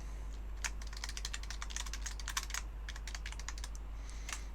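Rapid, uneven keystrokes on a computer keyboard clatter in steady bursts with short pauses, close and fairly quiet, with no voices.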